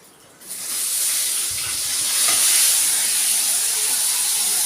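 Onion and tomato hitting a hot pan with cumin seeds for a fish-roe dish, a steady loud sizzling hiss that jumps up after a brief quiet start and holds constant without talk.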